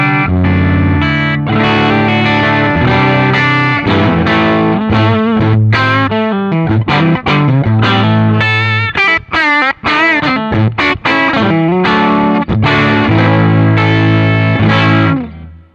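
Electric guitar played through a Boss Waza Craft tube amp, distorted with chorus-like effects, in a loud continuous run of chords and single-note lines filling the whole stretch without talk.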